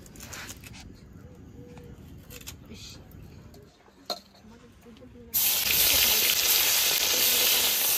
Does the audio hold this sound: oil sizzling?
yes